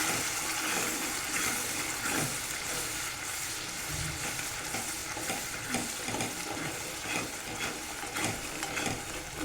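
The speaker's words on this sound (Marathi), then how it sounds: "मसाला असा तेलामध्ये छान परतायचा." Masala spices sauté in hot oil in a pan, a dense continuous sizzle and crackle up close, broken by scraping stirs with a spoon throughout.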